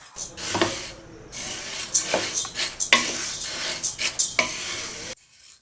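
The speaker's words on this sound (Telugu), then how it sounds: "ఇప్పుడు మినపప్పు వేపుకోవాలండి" Urad dal fries and is stirred in a pan, with a steady sizzle broken by repeated scraping strokes of a spoon against the metal, close and fairly loud, ending abruptly.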